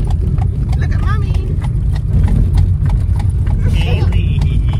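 Horse hooves clip-clop steadily as the animal pulls an Amish buggy on an evening ride, a close, rhythmic clatter of shod hooves on the road, with people talking over it.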